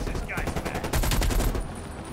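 Rapid gunfire from a Black Ops Cold War firefight, a dense run of shots that swells louder midway and then eases, with game noise filling the background.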